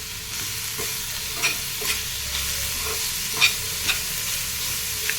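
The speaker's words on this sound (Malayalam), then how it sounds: "നമ്മൾ എടുത്തു വെച്ചിട്ടുള്ള ക്യാരറ്റും കൂടെ ഒന്ന് ചേർത്ത് കൊടുക്കുകയാണ് ഒന്ന് ഇളക്കി കൊടുക്കാം" Grated carrot for carrot halwa stirred in a frying pan: a steady low sizzle with scattered scraping clicks of a spoon against the pan, close and fairly quiet, with no voices.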